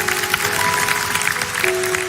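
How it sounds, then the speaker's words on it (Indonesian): Brief applause from a church congregation during a sermon, a dense clapping wash lasting about two seconds over sustained keyboard-like musical tones. "Yang percaya kasih tepuk tangan untuk Tuhan."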